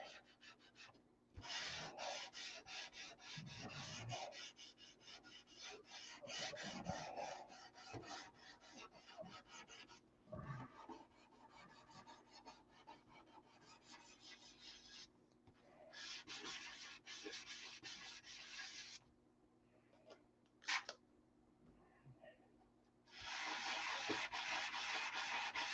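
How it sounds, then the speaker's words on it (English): Sandpaper color sands the canopy cap strip on a P-47 model in close, quiet bursts of raspy rubbing strokes separated by short pauses, with a final sustained pass. "The zen of color sanding."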